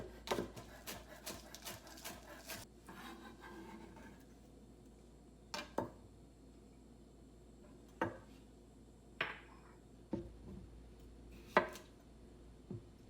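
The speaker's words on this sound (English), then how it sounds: "I'm slicing the green onion, both the white and the green parts, very thinly" A knife slices red onion and green onion thinly on a cutting board in a quiet kitchen, making a quick run of rhythmic taps at first, then sparse, isolated chops at irregular intervals.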